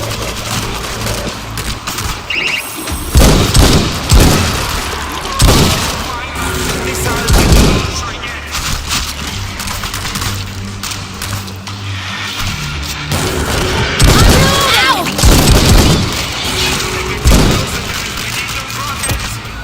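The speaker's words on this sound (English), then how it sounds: "Auto turret activated." Rapid automatic fire from an auto turret in World War Z Aftermath's Marseille missile mission, loud bursts mixed with booms and engine rumble, with a voice speaking over the gunfire.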